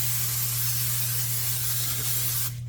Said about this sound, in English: And now we'll grab some cooking spray. And I'm just going to give this a pretty good spray.